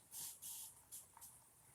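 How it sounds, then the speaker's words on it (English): A handheld spray bottle of plain water spritzes a rubber stamp four times in quick succession, soft close hissy bursts in an otherwise quiet room. "I'm just going to spray it."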